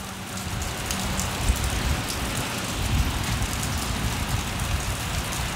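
Steady rain falls on outdoor surfaces after a storm, a dense continuous patter and hiss with scattered drops, fairly loud and close, with no voices.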